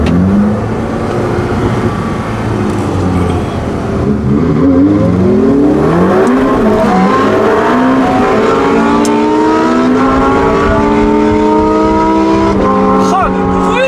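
Supercar convoy with a Lamborghini Huracan STO and Aventador SVJ, engines loudly revving and accelerating with rising and falling pitch sweeps, heard close while people talk over the roar.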